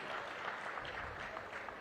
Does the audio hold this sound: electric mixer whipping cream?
no